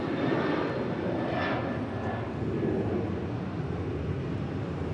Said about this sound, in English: 2373 departing to Kailua, Kona on a 737-900 ER.